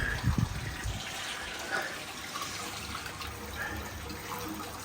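Water rushing steadily through a pond filter switched to backwash, a constant moderate hiss and gurgle with a brief knock near the start.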